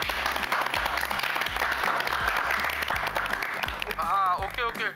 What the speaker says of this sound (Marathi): सगळेजण घरात टाळ्या वाजवून आनंद साजरा करतात